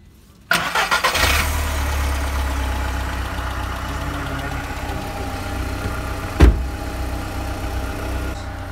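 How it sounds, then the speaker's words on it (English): A car engine cranks and catches, sputtering briefly, then settles into a steady low idle, with one sharp knock or clunk near the end. "what normally happens is the car would idle for a while"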